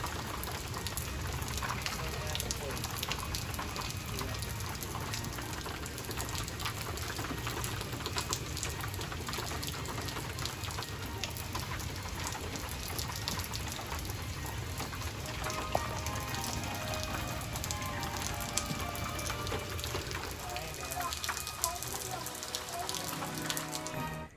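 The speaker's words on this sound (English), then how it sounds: "watching the rain because it is raining" Steady rain falls outside by a porch for a long stretch, a dense, constant hiss and patter of drops heard close and even throughout with no speech.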